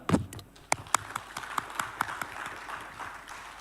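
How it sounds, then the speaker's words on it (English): An audience at a conference on maritime resilience claps for a speaker, scattered close handclaps growing into a steady soft patter of applause. "let us give a big applause for the speaker"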